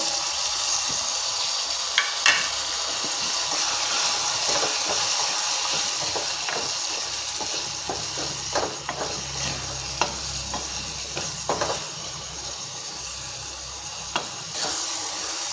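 A spice mixture of chili powder, salt, turmeric, coriander-cumin powder and fennel powder for wild karonda chutney frying in a pan, a steady close sizzle with occasional stirring clicks and scrapes, no talking.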